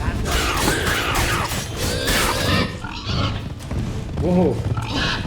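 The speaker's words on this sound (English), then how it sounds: "Pigs." Pigs grunting in The Witcher 3 video game, short snorting grunts heard under loud game noise and a man's speech, with a brief exclamation partway through.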